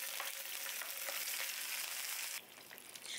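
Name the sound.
chicken marinade frying with crispy garlic in oil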